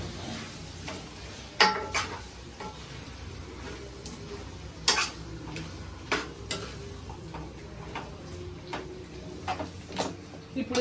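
A spoon stirs mutton gravy curry in a pot, giving soft scraping and occasional sharp clinks against the metal over a low sizzling background, with a person talking at times.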